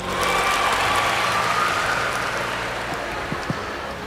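An audience applauds during a public lecture at Tadulako University. The clapping is a broad, continuous roar that stays even and fairly loud throughout, and a couple of sharp knocks come near the end.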